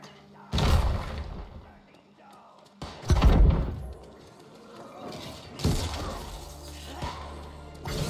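Explosions in the video game New World, a few loud booming blasts with crashing debris, separated by quieter stretches of game sound.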